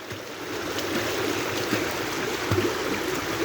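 Shallow river current, only about ten centimetres deep, flows fairly fast, giving a steady close rushing and gurgling wash with occasional small splashes.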